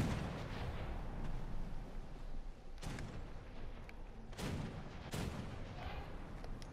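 Naval guns boom in War Thunder, with three loud broadband blasts at roughly 3, 4.5 and 5 seconds over a constant rumbling battle bed of engine and sea noise.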